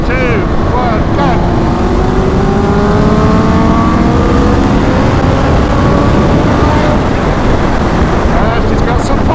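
Motorcycles accelerate hard on an open road to about 5,000 revs. Loud engine notes climb steadily in pitch, with heavy wind buffeting on the microphone throughout.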